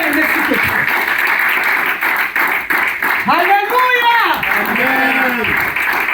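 A church congregation applauds and cheers at a service, a loud, steady wash of clapping with voices calling out over it.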